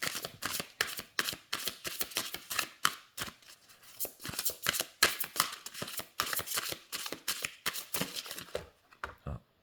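Oracle cards are shuffled in a rapid, steady run of close, crisp riffles and slaps, ending in a few separate taps, quiet and with no talking.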